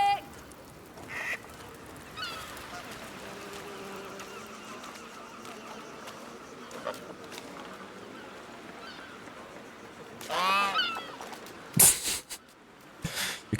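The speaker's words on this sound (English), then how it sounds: "You can scare the geese." Geese honk in the video game A Plague Tale: Requiem, a few scattered honks over quiet ambience, then a louder burst of honking and flapping near the end as they are scared off.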